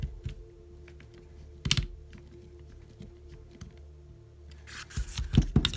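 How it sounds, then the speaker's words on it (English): Small screws being driven into the rear suspension of a Tamiya BIGWIG radio-controlled car kit, heard as close, faint clicking, scraping and rubbing with a few sharper knocks, growing busier near the end, no talking. "So all that's left is screwing these ones in all the way now."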